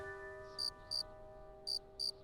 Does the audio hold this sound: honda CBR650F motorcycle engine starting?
no